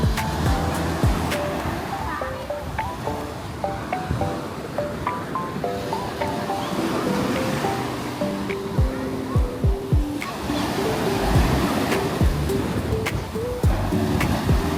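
Strong sea waves surge and wash continuously along the shore at Pantai Rhu beach campsite in Johor, with gusts and a rumbling undertow. Music and voices sit faintly beneath the steady surf.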